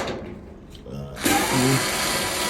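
A power driver whirs briefly to back a 5/16 screw out of a clothes dryer's front panel, a short buzzing burst at close range following a quieter stretch with faint voice.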